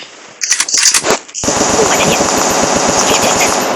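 Rapid automatic gunfire from a video game rattles in fast, even bursts that settle into one continuous stream, after a short opening of scattered shots and a brief voice-like sound.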